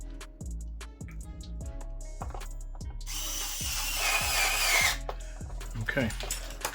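Power screwdriver driving screws into an Xbox One S during an HDMI port replacement, with repeated short whirring bursts in a steady rhythm, close and clear, and a voice speaking over it.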